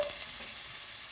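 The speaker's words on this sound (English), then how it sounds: "Here's the sizzle." Chopped red onion sizzles steadily in a hot pan, a constant crackling hiss with no talking.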